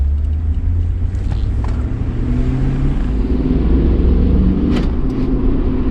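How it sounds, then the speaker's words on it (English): A 2006 Chevy Avalanche with rakes loose in the back driving along, giving a steady, loud low rumble of engine and road noise that rises slightly partway through, with faint higher rattles on top. "She got some rakes and stuff in the back making noise."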